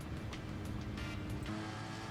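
A Porsche race car in Gran Turismo Sport roars steadily through an all-out race, its dense engine drone constant throughout with brief tire squeals near the chicane, loud and close.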